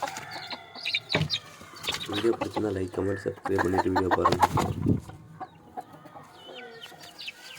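Country chickens cluck and squawk near a coop being opened in the morning for feeding, several birds calling in quick bursts while someone talks over them.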